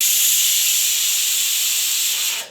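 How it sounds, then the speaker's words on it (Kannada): A pressure cooker cooking rice vents steam in one loud, steady hiss that runs for about two seconds before cutting off abruptly. "3 ವಿಸಿಲ್ ಬಂದಿದ್ದಾಯ್ತು."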